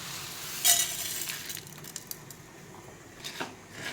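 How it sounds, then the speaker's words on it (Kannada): Spices fry in coconut oil in a pan with a soft, steady sizzle, broken by a few light scrapes and clinks of a spoon stirring. "ಈಗ ಎಲ್ಲವನ್ನು ಹಾಕಿಕೊಂಡು ಹುರಿಯುವ."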